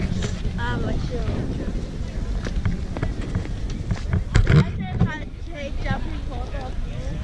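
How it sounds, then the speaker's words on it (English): Gusty wind buffets the microphone with a low, rumbling roar throughout at a Southern California beach, while people talk over it. "The wind is so good. So windy."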